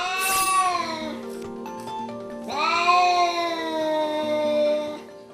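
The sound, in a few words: cat yowling loudly at a door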